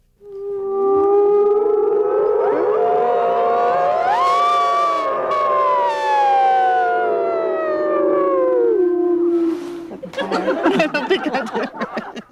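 A group of people at a teachers' camp in Idaho imitate wolf howls, their overlapping voices rising and falling in long, sustained howls for about nine seconds before breaking into laughter and chatter.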